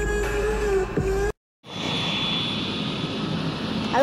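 A military helicopter at a state fair gives a loud, steady engine drone with a high whine. It cuts out briefly, then returns as a broad rumbling roar with a sustained high tone.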